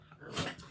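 Dogs give a brief, faint low growl, a single short rumble heard close by in a quiet room.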